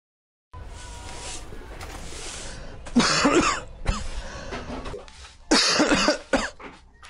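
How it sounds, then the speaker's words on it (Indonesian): Harsh, wet coughing fits close by, two heavy bursts several seconds apart over a steady background hiss. "batuk-batuk sikit ni"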